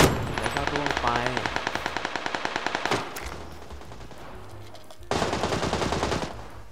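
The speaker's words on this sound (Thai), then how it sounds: "เสียงปืนอย่างเยอะ" Machine gun fire in the video game PUBG comes as a long, rapid burst of sharp, evenly spaced shots, a short lull, then a second burst near the end.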